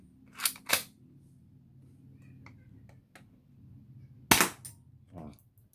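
A C15A+ black spring-type airsoft rifle fires 0.20 g BBs in sharp, close snapping shots, first a quick pair, then a single shot later, with faint handling noises between.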